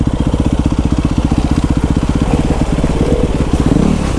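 An enduro motorcycle engine at full throttle thumps in a fast, rhythmic pulse close by, loud and steady, with a slight change in tone near the end.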